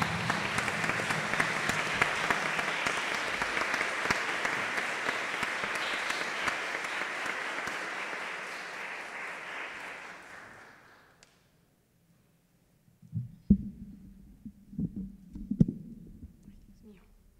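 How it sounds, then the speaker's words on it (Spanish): Audience applause at a literary talk, a steady dense clapping from a seated crowd that slowly fades and stops, followed by quiet shuffling and a voice starting to speak. "Un aplauso, por favor."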